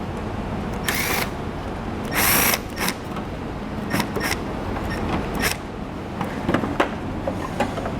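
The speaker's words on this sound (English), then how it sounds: "Now we'll take a Phillips screwdriver. We're gonna remove the 4 screws that are holding in our taillights." A Phillips screwdriver backs out taillight screws on a 2012 Jeep with faint creaks and scrapes over a constant low hum. Several sharp clicks and rattles stand out briefly, and no one speaks.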